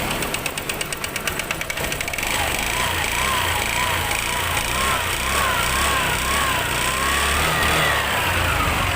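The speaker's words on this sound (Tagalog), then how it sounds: "Ganyan talaga magiging tunog ng makina pagka nagkaroon ng ano, overheat." A motorcycle engine runs loudly and unevenly with a rough, knocking rattle after overheating from running without oil, close up and continuous throughout.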